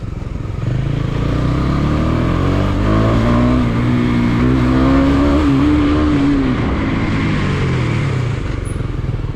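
A KTM Duke 250 motorcycle engine runs loud and steady for the whole stretch, with a rising and falling rev tone in the middle and no talk.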